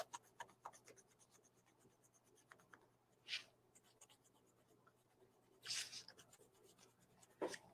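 Pencil scratching and sketching over matte acrylic craft paint, a run of soft irregular strokes with a few louder rubbing passes, close and alone.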